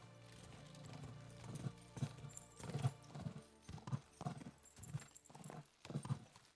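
Rhythmic clip-clop of horse hooves at a steady riding pace in the video game Kingdom Come Deliverance, distinct thuds repeating at regular intervals, fairly faint.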